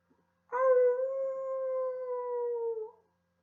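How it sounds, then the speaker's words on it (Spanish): One long, clear wolf howl holds a steady pitch for about two and a half seconds before trailing off, alone against silence. "Aulló el lobo."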